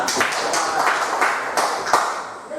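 Classroom students clap their hands together in a scattered, uneven burst of claps lasting a couple of seconds, fairly close and moderately loud, with a few sharper individual claps standing out.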